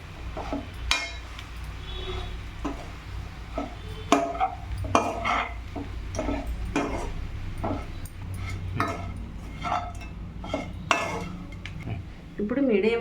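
A metal spoon knocks and scrapes in an irregular rhythm while pieces of chapathi are stirred in a pan. The clinks are sharp and close, with a low background hum underneath.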